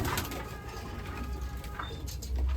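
Pigeons coo close by in a rearing loft in Najibabad, Uttar Pradesh, soft low throaty calls repeating over a dull background rumble with no talking.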